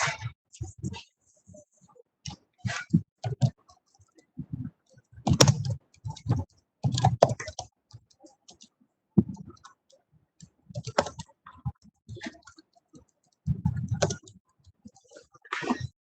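Computer keyboard keys typed while writing code during a competitive programming session, coming in irregular bursts of clicks with pauses, close and moderately loud, with some speech mixed in.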